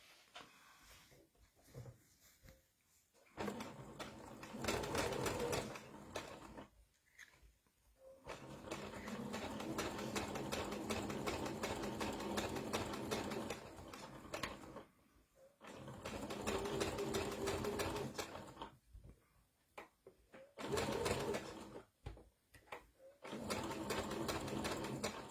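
A sewing machine stitches a horn onto a Ginger Giraffe stuffed toy, running in several steady bursts of a few seconds each, with short quiet pauses between runs.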